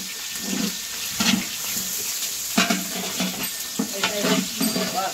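Food fries in hot oil in a large outdoor cooking vessel for a village feast, a steady loud sizzle with stirring and scraping noises over it throughout.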